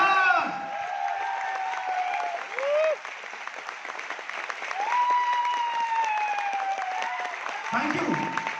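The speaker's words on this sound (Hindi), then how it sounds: "श्री अनिल पुरी सर और श्री संजीव सर के लिए एक बार जोरदार ताली हो जाए" A meeting crowd gives loud applause for their mentors, sustained clapping throughout with speech-like tonal voices and cheers layered over it, bracketed by brief talk at the start and end.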